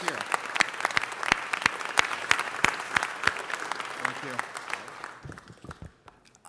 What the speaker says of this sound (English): Everybody, let's give this man and his team another round of applause.